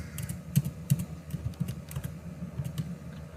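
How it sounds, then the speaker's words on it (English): Keys tapped on a computer keyboard, a quick uneven run of close, moderately loud clicks with small gaps, no voices. "So I am going to type within parentheses"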